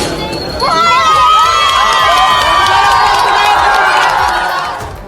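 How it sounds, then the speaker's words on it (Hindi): A lively crowd of girls' high-pitched voices cheering and shouting together, sustained and loud, with possible clapping mixed in, after a lock is broken with a hammer. "वहां मौजूद लड़कियों ने खूब तालियां बजाई।"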